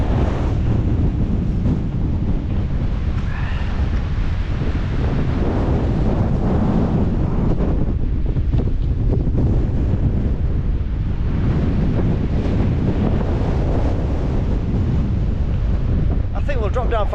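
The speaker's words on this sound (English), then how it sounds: "a very windy day." Strong wind roars steadily across a hilltop at Beacon Fell, buffeting the microphone with constant loud low rumble and gusts throughout, no talk over it.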